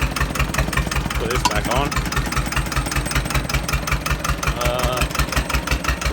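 A Chinese tractor engine idles just after starting, a loud rhythmic knocking putter with evenly spaced firing pulses, while people talk briefly over it.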